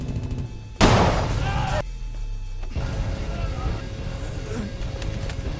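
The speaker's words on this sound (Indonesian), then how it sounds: "Ledakan terjadi." A sudden loud blast in an action film shootout, a sharp broadband burst followed by a rumbling decay and lingering noisy aftermath.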